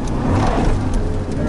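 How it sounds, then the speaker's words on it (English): A car engine blips its revs to match a downshift without using the clutch while driving a manual transmission, a steady, loud engine roar filling the short moment with faint voice traces. "So rev matching to downshift without the clutch."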